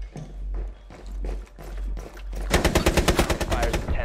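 Gunfire in a video game, several spaced single shots followed by a rapid burst of loud close automatic fire, with a low hum running underneath.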